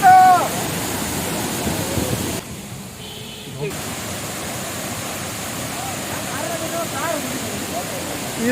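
Water pouring down from above at a scenic stop in Vagamon, Kerala, a steady broad rushing roar that holds throughout, briefly muffled near the middle.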